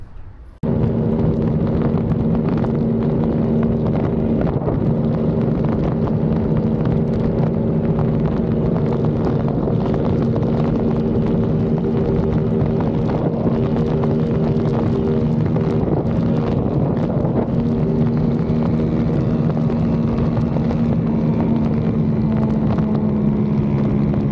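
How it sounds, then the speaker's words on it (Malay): A Honda RS150 single-cam motorcycle engine roars loud and close in one unbroken, steady drone, with no voices over it. "Aku cakap ya, motor Honda RS."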